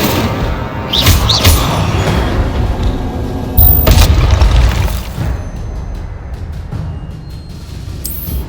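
Incendio fire spells cast in Hogwarts Legacy, booming magical blasts repeating with a dense rumbling roar, strongest bursts near the start and middle, continuous game combat noise throughout.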